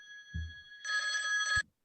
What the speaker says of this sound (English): I think we're just getting a phone call here